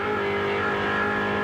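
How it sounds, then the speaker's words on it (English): Dick Johnson's Ford Mustang race car roars at full throttle around the Bathurst circuit in 1985, a loud sustained engine note alone without commentary over it. "The Mustang sounding very, very good."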